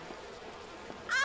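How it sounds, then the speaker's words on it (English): Bees buzz in the video game We Happy Few, a thin continuous insect drone that swells louder at the very end of the brief moment. "Oh, forgot about the stupid bees."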